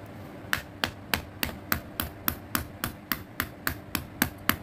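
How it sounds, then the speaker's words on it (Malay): A knife chops an onion on a cutting board in quick, even strokes, about three crisp taps per second, close and fairly quiet with no talking. "saya bakal mengupas kulit bawang Holland berikut ini, and also saya akan potong-potong"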